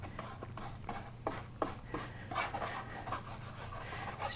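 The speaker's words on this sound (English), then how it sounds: "Just kind of scrubbing that on to kill the white, get the background covered" A paintbrush scrubs acrylic paint thinned with medium onto a canvas to cover the white background, making soft repeated rasping strokes that are close and quiet, with a low hum under them.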